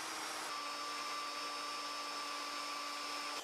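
A router fitted with a chamfer bit cuts along the edge of a wooden table leg, giving a steady, fairly quiet high-pitched whine that holds level for several seconds, then cuts off near the end.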